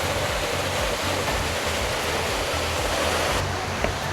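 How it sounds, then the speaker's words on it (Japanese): The Kouza waterfall on Mount Rokko, Japan, roars with a loud, steady rushing of falling water that stays unbroken and close throughout, with no voices. "この下が高座の滝。"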